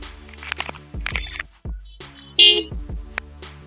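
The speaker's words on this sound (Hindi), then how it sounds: "इस बाइक का जो हॉर्न है वो आपको सुनाई देता होगा।" Several loud, buzzy horn blasts from a Bajaj Pulsar 220F motorbike, close by, in short bursts with brief gaps between them.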